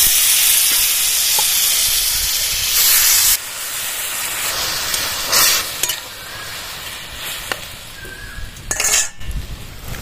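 Raw green mango pieces tip into a hot pan with mustard seeds and dried red chillies, setting off a loud, steady sizzle with utensil clinks and scraping stirs throughout.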